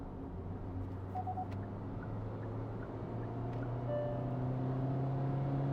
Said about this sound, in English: So I'm going to downshift. So check this out and try to listen to the engine.